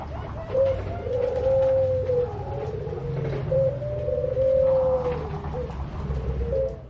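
A Bangkok perkutut zebra dove coos nearby in repeated rounds of soft, rolling, melodic calls, clear and close with no talking.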